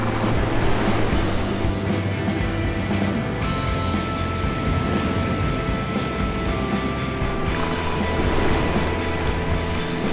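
Whitewater at Huka Falls waterfall rushes in a loud, continuous roar, broad and powerful, with churning turbulence and no voices.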